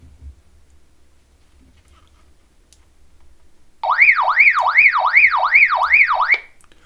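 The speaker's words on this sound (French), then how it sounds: "D'origine, ce bouton fait fonction alarme." A Radtel RT-470X handheld radio sounds its alarm function after a quiet pause: a loud, close warbling siren tone that sweeps up and down in rapid regular cycles for a few seconds, then cuts off.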